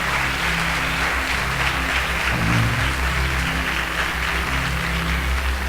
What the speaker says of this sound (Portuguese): Dê um aplauso àquele que vai fazer isso frutificar, o Rei da Glória.